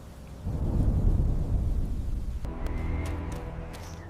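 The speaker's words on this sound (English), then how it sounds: "Heavy rain slicks the empty streets, reflecting the flickering streetlights." Heavy rain pours steadily with rolling thunder on an empty city street at night, a dense continuous roar that swells, then eases into lighter patter and drips.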